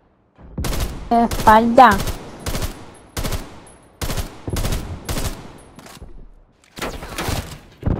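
Gunshots in Call of Duty: Black Ops Cold War, a run of sharp loud cracks spaced about half a second to a second apart, some in quick pairs, with someone speaking briefly over the firing.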